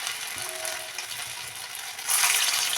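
Spoonfuls of batter dropped into hot oil in a pan: a low background sizzle that swells into a louder, brighter hiss near the end of the short stretch, with no voices.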